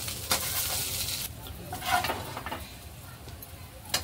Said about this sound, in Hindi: हे बघा, मी काढून घेते सगळी कोळंबी।